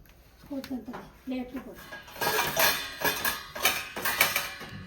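Plates clink and clatter as they are set into the rack of a new dishwasher, several sharp ceramic knocks in quick succession, with a person speaking briefly before the dishes are loaded.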